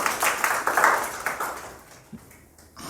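A classroom of students claps for a classmate in a brief, scattered burst that thins out after about a second and a half, leaving a quiet room.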